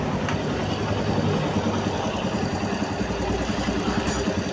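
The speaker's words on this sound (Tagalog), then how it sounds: "Kaya tahimik na yung kanyang makina." A car engine idling quietly after an engine block rebore and repair of oil-burning smoke, a steady low hum running evenly throughout with no voices.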